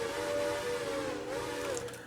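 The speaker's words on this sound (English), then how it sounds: "The whistle I have on the locomotive is a C&O whistle" A C&O steam locomotive whistle sounds in a railroad video game, one steady sustained tone with a breathy hiss, loud and close, held for about two seconds without talk.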